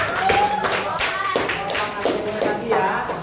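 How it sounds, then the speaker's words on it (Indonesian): Students in a classroom break into short, rhythmic bursts of hand clapping, with voices chattering between the claps. "Tepuk tangannya untuk teman kita."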